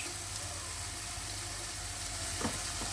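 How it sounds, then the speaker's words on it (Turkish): Sliced zucchini with onion and garlic fries in a pan, giving a constant, close sizzle with faint hissing steam. "Kızararak pişiyor bunlar"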